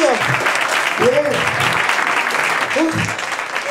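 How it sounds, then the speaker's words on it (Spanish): Audience applause fills a bar during a comedy show, a steady wash of clapping from many hands that runs throughout, with brief spoken voices cutting in over it. "Han aplaudido"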